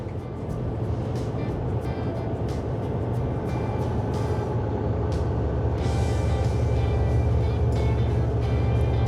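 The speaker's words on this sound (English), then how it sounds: "So I'm going to gear down." Up close, a semi truck's diesel engine drones low and steady from inside the cab as the driver gears down on a curvy Montana road. Faint ticks and clicks sound through the rumble, and no one speaks.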